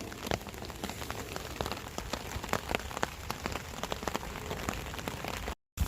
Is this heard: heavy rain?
yes